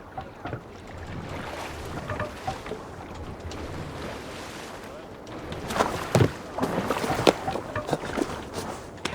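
A longship is rowed across a river in Assassin's Creed Valhalla, with water washing and lapping, wind, and oar splashes that grow stronger toward the end, under occasional speech.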